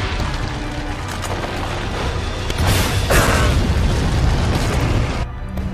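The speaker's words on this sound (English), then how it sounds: "now I use the rocket launcher" A rocket launcher firing in Resident Evil 4, a heavy boom bursting out of dense, rumbling noise, with the blast swelling near the middle before settling back into steady din.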